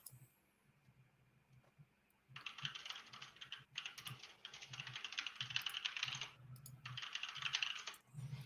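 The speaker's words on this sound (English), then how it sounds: "furiously typing" Rapid typing on a computer keyboard during a live online draft: a quiet lull, then a dense, continuous clatter of keystrokes in close, fast bursts with a brief pause near the end, with no talking.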